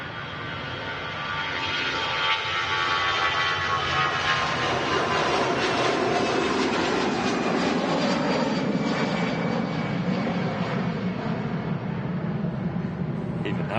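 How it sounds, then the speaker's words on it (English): A wide-body jet lands at Manchester Airport, probably a TUI Dreamliner, its engine roar rising quickly and then holding as a loud, steady, broad rumble and whine for the whole stretch, with no voices over it. "Got another wide body about to land."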